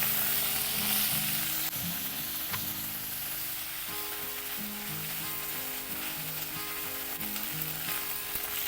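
Ginger paste and turmeric fry in a pan for a vegetarian pointed gourd dish, giving a steady, close sizzle that runs unbroken throughout, with faint tonal sounds underneath.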